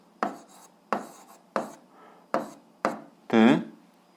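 A pen strokes across paper in six distinct close scratchy bursts, evenly spaced, the last one longer with a squeaky edge, in an otherwise quiet room.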